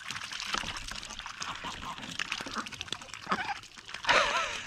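Water is poured out for animals as they drink and wash down corn, an irregular trickling and splashing that builds to a louder gush near the end, with scattered voices around it.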